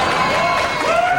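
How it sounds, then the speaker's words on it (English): Studio audience at a late-night comedy show breaks into applause and cheering after a joke, a dense continuous crowd wash held at steady loudness through the whole moment. "I'm afraid to know what you're applauding at there"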